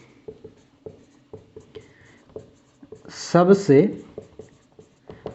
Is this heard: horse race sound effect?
no